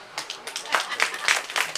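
Scattered audience clapping at an outdoor comedy performance on Yeongdeok Goraebul beach, a few irregular bursts of claps mixed with voices and crowd chatter, moderately close.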